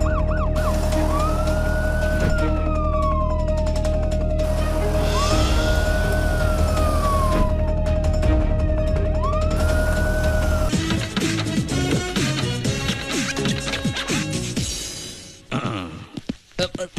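Sirens from a chief minister's convoy, with police escort, commando striker vehicle, fire force vehicle and ambulance, wail in repeated rising and falling sweeps for about ten seconds, loud and steady, before music takes over.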